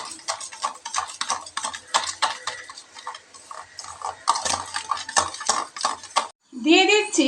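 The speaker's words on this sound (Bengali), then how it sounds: "দিয়ে খুব ভালোভাবে ফেটিয়ে নেব" Egg curry mixture being whisked briskly with sugar in a bowl, a busy run of close, rapid clinking strokes lasting several seconds, then a brief pause before a voice speaks over the end.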